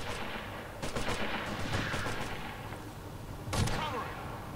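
Gunfire from Operation Flashpoint: Red River, with a burst of distant rifle shots followed by another sharp shot later, all over a steady rumbling combat background, while a voice speaks at points.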